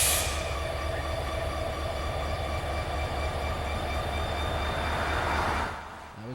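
Norfolk Southern locomotive 6105 rolls past with a loud, steady rail roar and faint ringing wheel squeal. The noise holds close for several seconds, then drops off abruptly at the end.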